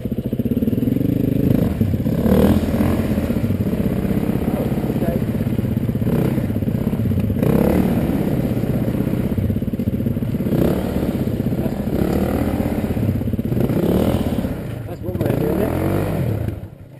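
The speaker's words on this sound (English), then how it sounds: "I've got to park my bike somewhere" A motorcycle rides off to be parked on a Welsh hill track, its engine a steady loud rumble close by throughout, with people talking over it.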